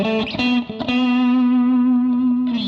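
A distorted electric guitar solo passes through an input warming stage into a Destructor distortion plug-in, sustaining a long, saturated note with a few quick picked notes at the start and end, loud and dry with no other sound.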